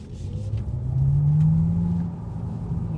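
A 2025 Maserati Folgore electric car accelerates hard, a steady rising tone swelling over a rumbling road noise for a couple of seconds and then easing off, with no talk.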